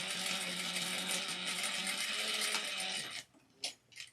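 A sewing machine runs a continuous, close, whirring line of top stitching on a small wristlet, then stops abruptly near the end, followed by a few brief handling clicks.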